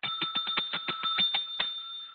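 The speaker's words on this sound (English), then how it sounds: "I couldn't find a bell other than the one we use at the front desk for service" A front desk service bell is struck about a dozen times in quick succession, each ding bright and close, and then a final ring is left to sustain and fade.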